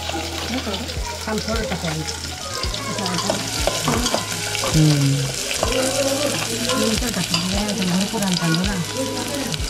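Onion, green chili and chana dal frying in a hot pan, a constant sizzle with stirring scrapes and clatter, a low steady hum underneath and faint background voice-like tones.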